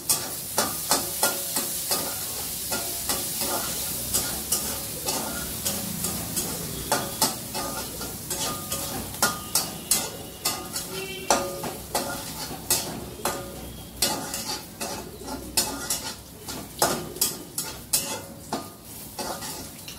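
Grated ginger frying in a pan while being stirred briskly, a loud continuous sizzle cut by rapid rhythmic scrapes and clinks of a metal spatula against the pan, with no talking.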